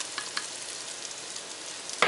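Finely chopped potatoes with celery and onion cooking in a pot for fish chowder, a soft steady sizzle with a couple of faint stirring scrapes and a sharper clink at the end, close but quiet.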